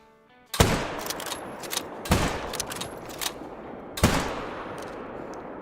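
Three loud, widely spaced rifle shots in a mule deer hunting game, each a sharp crack with a long echoing tail trailing off before the next.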